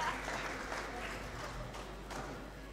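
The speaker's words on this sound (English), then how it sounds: "Clap before the song, that's a first." An audience claps before a song at a performance, a steady, moderate wash of applause from a small crowd that lasts throughout, with faint talking mixed in.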